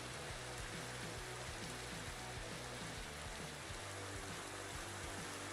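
Steady rain in the Minecraft video game, a soft continuous hiss heard alone at low level with no talking.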